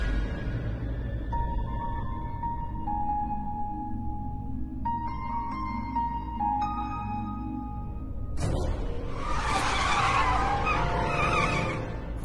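A car driven fast, its engine droning at steady high revs and shifting pitch, then breaking into a loud, harsh tire skid near the end.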